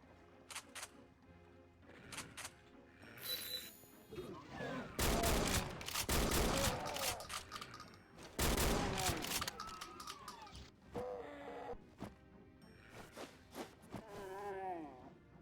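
Loud bursts of shotgun fire blast against zombies in a Doom-style video game, heavy blasts clustered in the middle amid other game noise, with talk running throughout.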